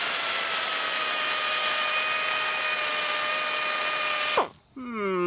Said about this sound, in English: This one's not drilling quite as well.